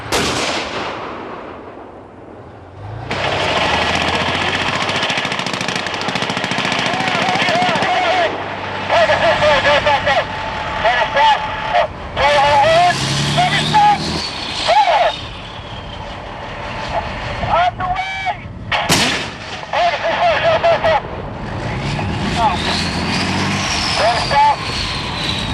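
Tank combat in the FirePower video game: heavy cannon blasts and gunfire over a constant engine rumble, with booming shots and sharp impacts scattered through the stretch as crew voices call out commands.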